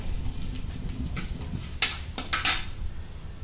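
Curry leaves crackle in hot oil for a chole (chickpea) masala, a steady frying hiss with a few sharper spits and pops near the middle and a light stir against the pan.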